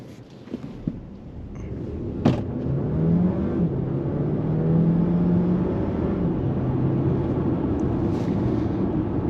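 A 2024 Dodge Hornet R/T Plus accelerates in hybrid mode, heard from inside the car: a smooth rising whir and road rumble builds and holds steady, with a brief click near the start.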